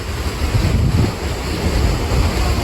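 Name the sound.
powerful water flowing over a large dam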